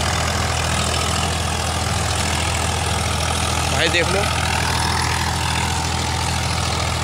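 A Swaraj 744 FE tractor pulls a Fieldking seven-foot rotavator, its engine droning loud and steady throughout, with someone speaking briefly over it.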